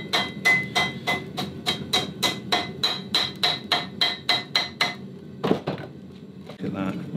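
Blacksmith's hammer striking forged steel on an anvil in a workshop, about sixteen evenly spaced ringing blows, fairly close, followed by a pause and a couple of scattered knocks.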